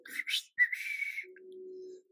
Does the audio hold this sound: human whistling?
yes